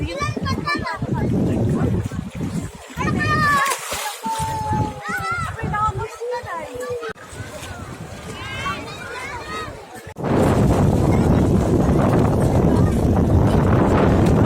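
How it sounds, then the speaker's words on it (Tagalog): Strong gusts buffet the microphone with a loud rumbling roar, heaviest toward the end, while children talk and shout nearby in Infanta, Quezon. "Malakas ang hangin."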